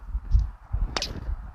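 A flimsy horse-training whip swung through the air in a failed attempt to crack it, giving one sharp swishing snap near the middle over low rustling handling noise.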